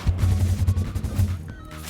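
Cannons firing in the video game Satisfactory, a rapid volley of low, booming shots in quick succession, loud and close, sputtering to a stop near the end with no talk over it.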